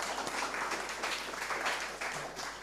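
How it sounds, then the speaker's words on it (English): An audience at a songwriting summer camp certificate ceremony claps in a brief, fairly faint burst of dense applause lasting a few seconds. "Give him a round of applause."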